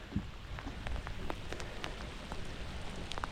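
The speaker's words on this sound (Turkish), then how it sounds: "Yağmur başladı." Rain falls steadily during a seaside fishing trip near Çeşme, a constant hiss of drops hitting a hard surface close by, with scattered sharper splats.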